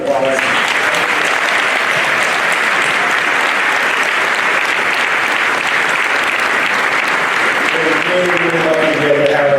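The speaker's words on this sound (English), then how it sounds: "So we can give them a round of applause." Graduation audience applauding school staff at a 2019 McCann commencement, dense steady clapping from a large crowd filling the whole stretch, loud and close, with a few voices breaking through near the end.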